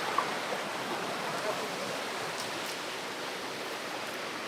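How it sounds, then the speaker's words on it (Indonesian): A small river runs beside sloping tea-garden land, giving a steady, even rush of flowing water that continues without a break and without voices. "Di sana ada sungai kecil."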